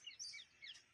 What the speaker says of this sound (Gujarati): અને આ પંખીડાનો કયો અવાજ છે ને